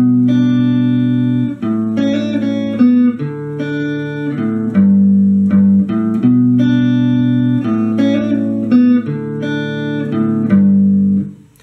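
Electric guitar playing the bridge of a song, a steady sequence of picked chords and single notes ringing with slight effects, loud and close, no talking.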